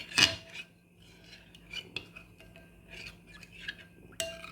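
A spoon stirs a cornstarch mixture for maja blanca in a metal pot, making light scattered clinks and scrapes against the sides and bottom, with one sharper knock at the start and another near the end.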